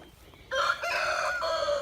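A friendly Light Brahma rooster lets out a single loud, close crow that rises and holds for over a second after a brief quiet moment.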